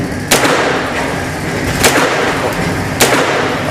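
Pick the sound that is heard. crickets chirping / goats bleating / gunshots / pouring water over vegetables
gunshots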